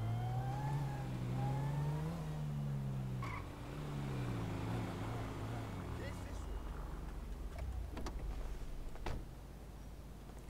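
A car's engine revs in a driving video game, rising and falling in pitch over a long stretch, while someone talks over it throughout.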